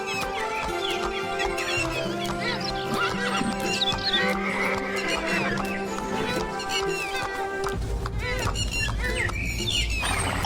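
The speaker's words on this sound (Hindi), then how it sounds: "राजा महल से घोड़े पर सवार होकर अकेले ही निकलता है" A horse neighs and its hooves clip-clop steadily as a king rides out alone from the palace in an animated Hindi moral story, with birds chirping and a musical backdrop throughout. No one speaks.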